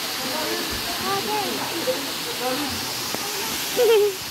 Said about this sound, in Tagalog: Ganda kasi ng falls oh.